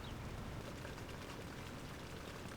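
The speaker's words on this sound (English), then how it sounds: "Get out of this god-awful rain." Heavy rain falls in a steady, dense hiss, fairly faint, with no pauses or voices over it.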